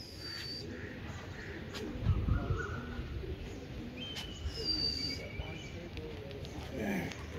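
Rooftop pigeon flock of eight in Karachi cooing faintly at dawn, soft low coos scattered over steady outdoor background noise, with occasional distant chirps.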